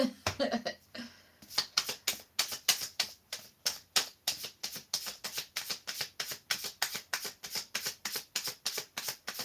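Tarot cards are shuffled close up in a steady riffling rhythm, dozens of crisp rapid flicks repeating evenly for several seconds with almost no other sound.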